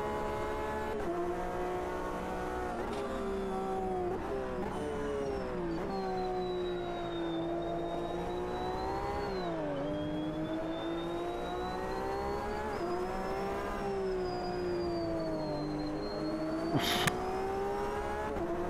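Three Corvette race cars and a Porsche in Automobilista 2 at Sugo roar together in a dense, continuous engine drone, pitch sweeping up and down through shifts, with a brief sharp burst near the end.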